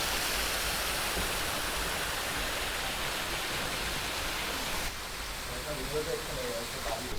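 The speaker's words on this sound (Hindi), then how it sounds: "और यहाँ पर ये वाटरफॉल है, काफ़ी बढ़िया दिख रहा है आप देखो।" A waterfall near Bhaja Caves roars as a steady, broad rush of falling water heard from close range, with a slight shift in tone partway through.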